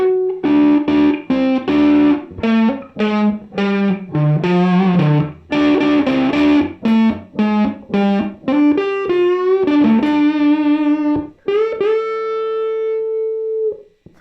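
Epiphone SG400 electric guitar on the neck pickup with the tone rolled back for a woman tone, playing a loud run of plucked notes and chords with a slightly driven sound, ending on a sustained ringing note, no talk.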